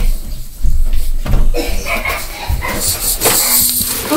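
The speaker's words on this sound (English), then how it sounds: "The door is jammed." A jammed door being forced open: repeated heavy thumps, knocks and rattles of the door as it is pushed and yanked, close and fairly loud, with scraping in between.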